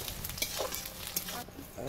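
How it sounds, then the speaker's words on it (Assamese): Steady sizzling of onions frying in a hot pan, with occasional stirring scrapes and clinks close by. "পিঁয়াজ ভাজি আছোঁ"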